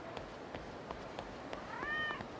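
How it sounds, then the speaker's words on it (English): A cat in Yakuza 0 gives a single short meow near the end, a faint harmonic cry over low background ambience with soft, regular footstep-like taps. "Oh, cat. And it's alive."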